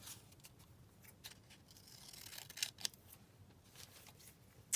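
Scissors cut paper for a glue book folio, giving soft close snipping and rustling strokes in an irregular series, faint and with no talk.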